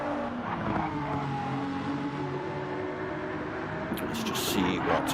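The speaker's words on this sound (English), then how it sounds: "Sounding cars, the GT3 class." GT3 race cars at Monza in a racing video game, a sustained engine drone with layered harmonics and a burst of crackling, squeal-like noise near the end; a voice talks over it.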